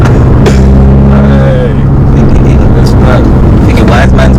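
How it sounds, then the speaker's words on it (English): Loud, rumbling engine of a modified stage 1 Volkswagen Golf GTI with a deep droning low end, constant throughout, with voices talking over it. "why is man's car making that noise?"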